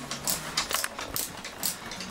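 A ratchet tool tightens a LUXWAY Lunas ceiling light fixture, giving off a rapid, close train of clicking and ratcheting mechanical sounds.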